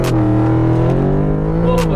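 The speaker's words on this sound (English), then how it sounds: "Dallin is taking the Audi on the track." A stage 3 Audi S6 on a private race track, its engine holding a steady, loud drone with a slowly rising pitch throughout, continuous and close, with a brief higher whoosh near the end.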